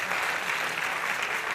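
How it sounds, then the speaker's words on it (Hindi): Audience applause at a patriotic-song singing and dancing competition in Vidisha, a steady, dense wash of clapping that runs unbroken and loud for the whole stretch, with no voices over it. "इनके लिए एक बार जोरदार ताली बजाएं"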